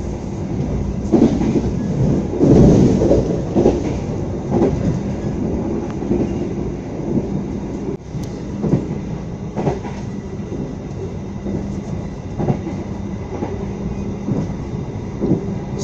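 The Sancaka train runs on rails between Jogja and Surabaya with a continuous close rumble and rolling clatter from inside the carriage. No one speaks.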